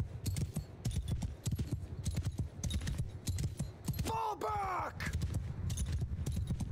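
Cavalry horse hooves clatter in a rapid, irregular patter during a Mount and Blade Bannerlord battle, mixed with shouted commands and a brief whinny-like call midway.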